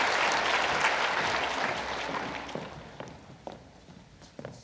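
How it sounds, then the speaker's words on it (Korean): A church congregation applauds a deaconess before her testimony, a dense wash of clapping that starts loud and gradually fades, thinning to a few scattered claps at the end. "여러분 박수 한번 드리겠습니까?"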